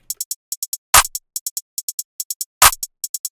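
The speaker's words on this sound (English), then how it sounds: "It's playing the traditional trap clap pattern." Two sharp claps land on the offbeats over a steady run of quick hi-hat ticks, in a loose, bouncy trap rhythm.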